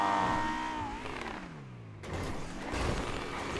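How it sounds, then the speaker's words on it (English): Car engine in GTA V revving up and winding down, a rising then falling whine followed by a fresh loud revving burst, close and prominent. "I love the sound of the car."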